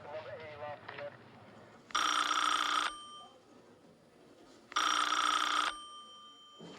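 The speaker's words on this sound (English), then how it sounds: "Just answer the phone" An old-style telephone bell rings twice in long, loud bursts separated by a pause, set in an indoor office scene with brief talk just before.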